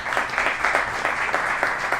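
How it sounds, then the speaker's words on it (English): Indoor audience at a 1 Million Cups startup pitch event applauding steadily and fairly loudly for a couple of seconds, a dense wash of hand claps with no voices over it. "round of applause for Dave King."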